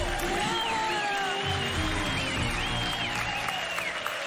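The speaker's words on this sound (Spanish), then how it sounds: "el pueblo de Yo Soy te da un aplauso" A studio audience at the Peruvian television talent show Yo Soy bursts into sustained, dense applause with a few whistles rising over the clapping, steady throughout.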